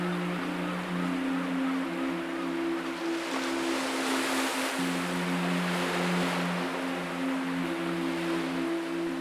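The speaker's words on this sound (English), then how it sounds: "wavelets wash over a closely packed pebble beach" Small sea waves wash over a closely packed pebble beach in a steady, gentle hiss of surf, with sustained low tones running beneath and no voices.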